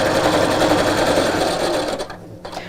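A domestic sewing machine stitches rows of fabric with shirring elastic in the bobbin, a steady close mechanical whir that runs loud and continuous before slowing briefly at the end.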